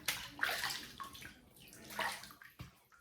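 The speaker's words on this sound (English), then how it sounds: "I'm gonna wet the face and get started" Water splashes and sloshes softly in short bursts as a man wets his face at a sink before a shave, faint and close with no talking.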